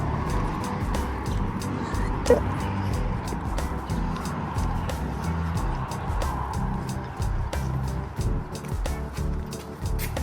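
A Dodge Journey 3.6 rolls along a road in the rain, a steady low engine and tyre rumble heard from inside the cabin, with road noise and occasional light thumps, continuous and even throughout.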